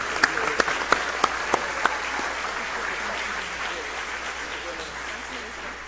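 An audience applauds at a live state of the nation address. A few sharp, separate claps come first, then they build into a steady, sustained wash of applause from the crowd.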